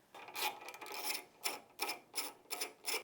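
A T25 Torx driver works the fork guard screws loose on a 2024-or-later Harley-Davidson Touring front end, giving a series of short, close, bright ratcheting rasps in bursts of five or six, with no voices.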